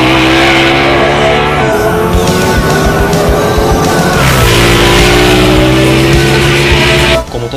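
A Ducati Panigale 1199 S twin-cylinder motorcycle accelerates hard on a road, its engine rising in pitch through gear changes with loud rasping revs, close and dominant, then cutting off abruptly at the end.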